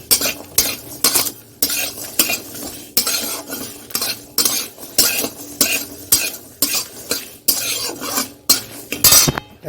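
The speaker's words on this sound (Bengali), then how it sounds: "কড়াইতে শুকনো খোলায় ভাজবো এগুলো" Garlic and green chillies dry-roasting in a wok are stirred with a utensil that scrapes the pan in quick, regular strokes, around a dozen in a row. The sound is loud and close, with no talk.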